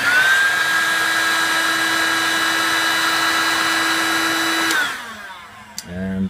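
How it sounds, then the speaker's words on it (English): A heat gun runs with a steady whine and airy blowing hum, then cuts off near the end, leaving brief quiet handling noises. "Now I'm just warming up the heat gun in advance."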